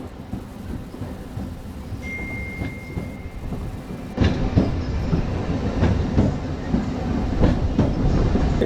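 The Narasapur MEMU Express, train 17269, rolls along near Undi railway station with a continuous rumble and clickety-clack of wheels, growing louder and rougher partway through.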